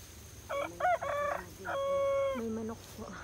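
A rooster in the Philippine countryside lets out a clear, fairly close crow, a run of broken, rising notes ending in a long held tone with a short tail.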